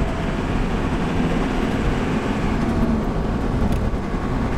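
Land Rover Defender cruising at 60 miles an hour: steady, loud broadband road and wind roar with a low engine drone throughout, no voices.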